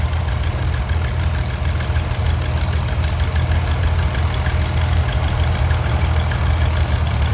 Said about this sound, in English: Next we have a 1949 John Deere M